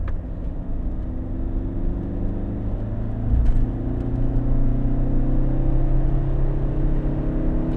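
Fiat Multipla accelerating hard from inside the cabin, a loud droning engine rumble whose pitch climbs steadily as the revs build.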